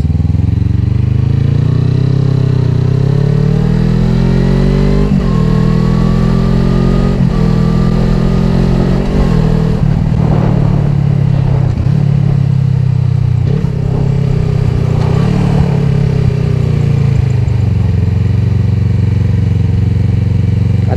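A loud Suzuki Inazuma GW250 with a 3Tech Evox X3NRB exhaust, baffle removed, drones close by as the bike rides off, engine pitch rising and dropping with several gear shifts and throttle changes.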